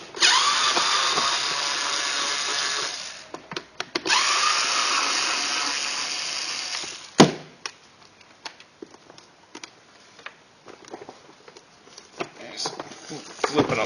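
Screws are undone from a GMC pressure washer with a powered driver, giving two sustained whirring runs followed by scattered clicks and handling knocks, close by with someone talking at times.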